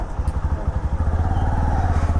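A Bajaj Platina motorcycle engine runs close by with a steady, rapid low thudding pulse that quickens slightly toward the end, loud and alone with no talk.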